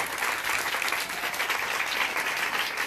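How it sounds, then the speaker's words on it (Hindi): A church congregation claps loudly at a Christian sermon, a dense, steady wash of applause filling the whole stretch with no break. "जरा जोरदार तालियां हैं।"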